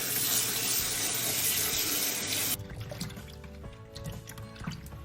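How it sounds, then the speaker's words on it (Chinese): Small leftover potatoes rinsed by hand in a sink under a running tap, with a steady loud gush of water for the first half that drops to a quieter trickle and scattered splashes and knocks afterward. "咱们先将过年做烤箱烧烤剩下的小土豆洗一下"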